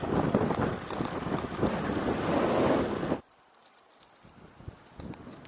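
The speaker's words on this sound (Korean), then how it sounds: "바람 완전 미쳤네 미쳤어" A strong headwind buffets a cyclist on a long-distance brevet ride, producing loud, roaring wind noise on the microphone that cuts off abruptly after about three seconds and leaves quiet road sound with faint knocks.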